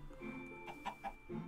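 A chicken clucks in a Minecraft modpack game, FTB Anniversary Pack, a few short close clucks over a quiet steady hum, with no talking.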